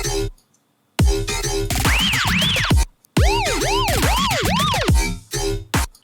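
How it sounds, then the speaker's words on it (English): A police-siren-like riser effect in an FL Studio riddim track sweeps up and down in repeated wailing arcs over heavy electronic bass and drums, loud and close, with short silent breaks between sections. "I actually have this riser. It's like a police siren"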